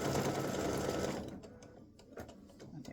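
A sewing machine stitching a short seam, a loud steady whirring rattle for about a second that then stops, followed by faint clicks and handling sounds.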